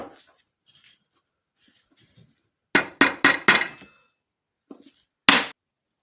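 Hammer blows drive a wooden pommel onto a handmade wooden short sword: a quick burst of four sharp, close knocks, then after a pause one faint tap and a final loud strike.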